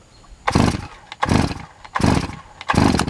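Chainsaw cutting firewood logs, the engine revving loudly in four evenly spaced surges with short drops to idle between them.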